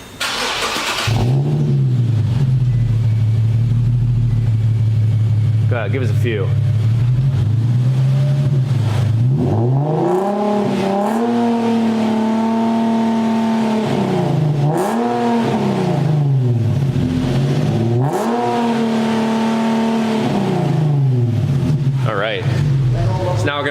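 An Infiniti G37 with its resonator and muffler deleted fires up and revs repeatedly, loud and close, rising and falling in several throttle blips over a steady idle, with someone talking over it.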